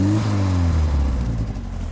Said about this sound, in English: Bob, give it just a little rev.